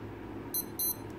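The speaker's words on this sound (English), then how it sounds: "the watch will beep twice" A Casio W213 digital watch gives its top-of-the-hour signal, two short, high electronic beeps in quick succession, close and clear over a quiet room background.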